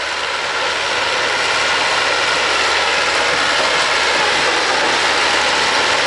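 A DMTZ 544X mini tractor engine runs loud and close while tilling virgin ground, a constant rattling drone with no pauses.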